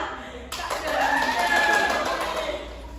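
An audience claps along in a counting clap game during an Islamic studies presentation, a dense burst of hand claps rising suddenly and holding, with a voice and some chuckling mixed in.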